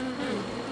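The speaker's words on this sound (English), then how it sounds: "But that just made the bees more angry, and they started coming at me." A swarm of angry bees buzzes loudly and steadily in a continuous close drone, with no voices over it.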